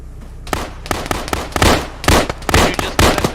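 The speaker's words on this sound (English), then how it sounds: "Grenade out." Repeated sharp blasts and bangs from Arma 3 combat, a grenade explosion among a rapid series of loud close impacts and gunfire-like cracks, with no talk.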